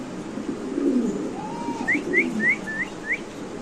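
Soft, low cooing from a Roman Gola pigeon murmurs beneath a series of short, bright whistled chirps repeating about every third of a second.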